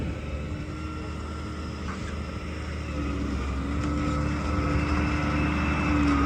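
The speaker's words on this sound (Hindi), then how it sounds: "दूसरा ट्रैक्टर भी आई गया हुआ है।" A tractor engine runs outdoors by a bridge in Mirpur, Azad Kashmir, as a steady, heavy drone that grows slightly louder over several seconds, with no one speaking.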